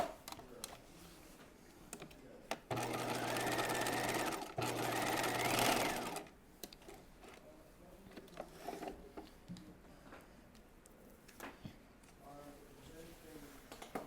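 A sewing machine runs a steady, loud whirring stitch along a seam line at a 2.5 mm stitch length for about three seconds with a short pause, amid quieter clicks and handling noises.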